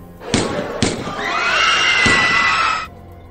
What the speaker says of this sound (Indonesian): Aksi baku tembak pun tak terhindarkan